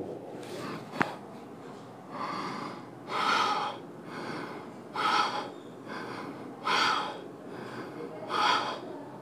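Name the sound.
deep breathing during yoga exercise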